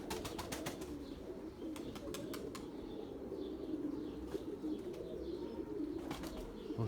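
A pigeon coos in low repeated murmurs, with sharp clapping bursts of wingbeats at the start and end.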